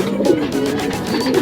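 Young pigeons flutter around a loft, with wing flaps and soft cooing over a steady close background of bird sounds.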